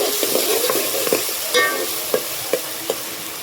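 Chilies, garlic and onion fry in a pan with a steady sizzle, while a spoon scrapes and knocks against the pan a few times, close by and with no talking.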